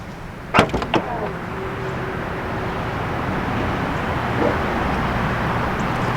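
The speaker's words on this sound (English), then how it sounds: "the tailgate is power on all models, and it is also hands-free. So just wave your foot under the bumper and it will open right up" Power tailgate of a 2019 Audi Q5 opening hands-free: a few sharp clicks and knocks from the latch, then a steady motor hum as the gate rises, close by with outdoor background noise.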